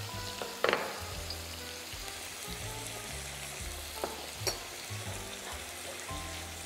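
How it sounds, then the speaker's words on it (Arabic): Tomato sauce with red pepper and turmeric bubbles and sizzles in a pan, a steady soft crackle with a few brief clinks of stirring, fairly quiet and free of talk. "باش نخليوها تغلي شويه"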